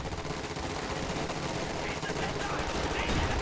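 Rifle and MG-34 machine gun fire crackle in a World War II strategy game battle, a dense continuous barrage of overlapping shots at steady loudness with no pauses.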